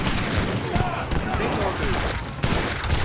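Culverin cannon fire in a real-time strategy video game match, repeated sharp booming shots cracking out over busy battle noise while a commentator talks throughout.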